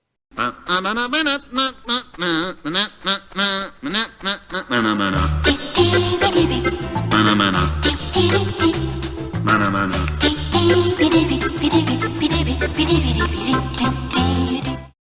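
Retro orchestral Italian exploitation film music: a plucked, staccato melody opens, then a fuller arrangement with steady bass and sustained chords plays loudly throughout.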